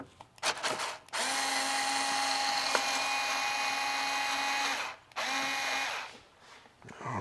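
Power tool driving out a mirror bolt on a Honda Gold Wing motorcycle, a close, steady high-pitched whine held for about four seconds, briefly stopping, then resuming, with short clicks at the start.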